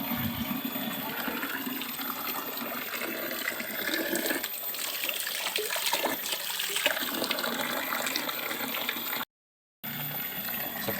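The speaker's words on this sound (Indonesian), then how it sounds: "Kemudian ini saya buang airnya semuanya" Water drains out of a catfish tank in a steady, loud rushing gush that holds without pause, broken by one brief gap near the end.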